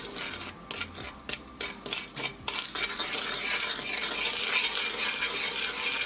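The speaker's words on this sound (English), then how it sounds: "dry roast Sooji so that it won't get burned, and keep it moving." Semolina dry-roasting in a pan for sooji halwa is stirred with a spoon, opening with a run of sharp metal clinks and scrapes against the pan, then settling into a steady soft hiss with no talking.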